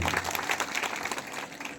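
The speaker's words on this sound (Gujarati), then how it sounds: "આપણે સૌ તાળીથી વધાવી દઈએ." Audience at an Aam Aadmi Party political meeting breaking into brief, dense applause, many hands clapping close and fairly loud throughout.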